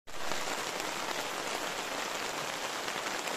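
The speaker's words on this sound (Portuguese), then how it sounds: "Chove sem parar." Steady, dense rain falls on the Paraibuna reservoir during a fishing outing, a close, even hiss of drops on water with no voices.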